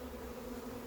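Bees from a runaway swarm being recovered near Ozoir-la-Ferrière hum steadily and continuously, a close, even drone with no voices over it.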